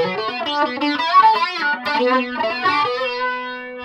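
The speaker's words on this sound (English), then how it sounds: "So that's the pedal, the distortion pedal before it." A Washburn A10 Stage Series electric guitar through a distortion pedal plays a sustained, gritty melodic line with thick harmonic overtones, loud and up close, with no talking.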